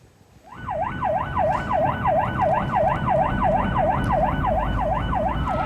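An ambulance siren in Ciledug, Tangerang starts abruptly and wails in a fast, regular up-and-down yelp, loud and close, over a low road rumble, escorted by volunteers.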